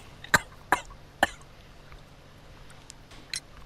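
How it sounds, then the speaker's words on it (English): A man in the Sherlock Holmes video game coughs three times in quick, sharp bursts close up, followed by quiet background and a faint later cough. "Stop coughing."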